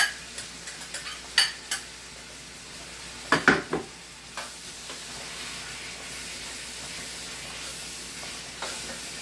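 Onions and pepper sizzle in a pan during lasagna preparation, with a steady soft hiss and a few sharp scraping clicks of stirring, clustered near the start and middle.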